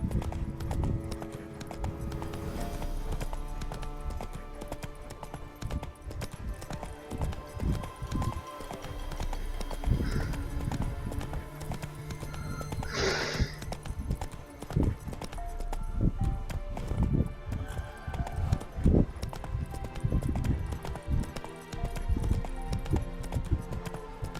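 Hooves of the horse in The Witcher 3 clop in a steady galloping rhythm, moderately faint under game ambience and occasional thuds, with no talk.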